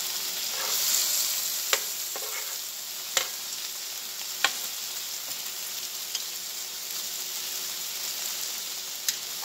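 Bacon sizzles and fries steadily in a pan for baked beans, a dense crackling hiss with occasional sharp pops and scraping clicks, close and continuous with no talking.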